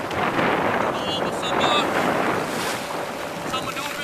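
A personal watercraft idles on calm lake water, its low engine rumble mixed with water wash and heavy wind buffeting the microphone.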